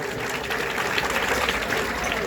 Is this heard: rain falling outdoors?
no